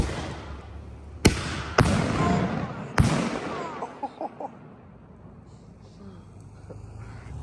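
Firework salute shells burst in three sharp, loud bangs, each trailing a long echo that fades into the surrounding quiet, with voices talking nearby.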